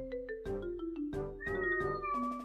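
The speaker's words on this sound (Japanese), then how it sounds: "猫鳴いてる。" A cat meows several times in quick succession, close and clear, with rising and falling tonal cries, heard over game sounds from a Splatoon 2 match.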